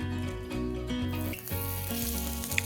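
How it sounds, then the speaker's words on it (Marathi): Thalipeeth fries in ghee on a hot griddle with a close, steady sizzling hiss that grows brighter, over a sustained tonal hum. "आता खरपूस रंगावरती दोन्ही बाजूनीही छानपैकी आपण भाजून घेऊया"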